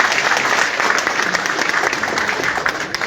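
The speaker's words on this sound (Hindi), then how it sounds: "वो सर के लिए जोरदार ताली से स्वागत कीजिए।" An audience gives a guest a warm welcome with loud, sustained applause, a dense, continuous clapping from a crowd that lasts the whole stretch.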